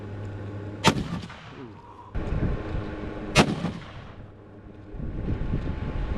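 Two loud, sharp rifle reports from a fast, hard-hitting bullet load ring out a few seconds apart outdoors, each with a short rumbling tail, over a background of wind and low rustling.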